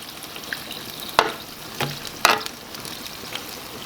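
Mushrooms with garlic sizzling in a cast iron pan, with a few distinct stirring scrapes and clatters standing out over a steady, fairly quiet frying hiss.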